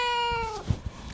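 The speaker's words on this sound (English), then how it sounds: "that's just my cat, Stella." A pet cat gives a single close, clear meow that slides downward and fades, followed by a couple of soft bumps and rustles.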